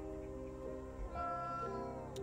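A cat meows in the video game Moonscars, a drawn-out tonal call with wavering pitch over a quiet game backdrop, fairly faint and alone.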